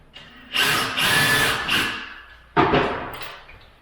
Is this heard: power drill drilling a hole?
yes